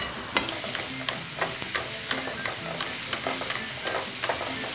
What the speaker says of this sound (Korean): 넣고 볶아주시는 게 아니라 그냥 섞고 버무려 주시면 돼요